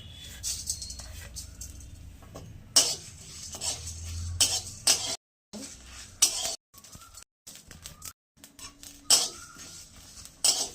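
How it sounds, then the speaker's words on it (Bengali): Dal and spices dry-roasting in a pan, with intermittent scraping and metallic clinks of a spoon against the pan, under occasional talk and short pauses. "দিলাম শুকনো খোলায় ভেজে নেবো সব।"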